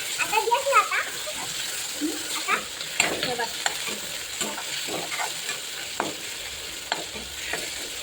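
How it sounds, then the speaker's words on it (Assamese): Tomatoes frying in a pan with a light, steady sizzle and repeated scraping stirs, while someone talks over the cooking. "বিলাহীখিনি ধুনীয়াকৈ ভাজি লওঁ দেই"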